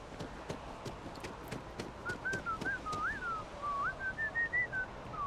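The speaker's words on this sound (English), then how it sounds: "Some good whistling you got there, buddy." A character whistles a wandering melodic tune in the video game Starfield, starting partway through over a run of regular clopping footsteps that fade out as the whistle continues alone, fairly quiet.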